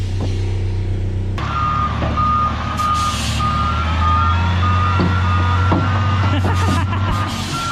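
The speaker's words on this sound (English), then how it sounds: "Looks like our rock just got here." A truck delivering rock to a pool excavation site backs up with its reversing alarm beeping steadily over a loud diesel engine rumble, with some clanks of equipment nearby.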